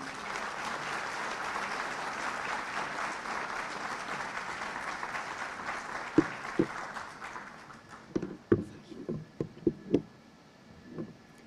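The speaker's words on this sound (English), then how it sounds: "let's give a big round of applause" A round of applause from the audience at a German-Kosovar economic forum fills the room, steady and broad, then thins into scattered individual claps near the end.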